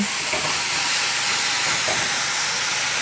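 Meat hits a preheated Ninja Foodi NeverStick pot and sizzles loudly, a dense, steady hiss that holds for the whole stretch without a break and with no voices over it.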